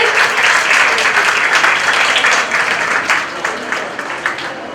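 Sustained applause from a crowd at a Women's Day awards ceremony, dense and steady clapping throughout, easing slightly toward the end.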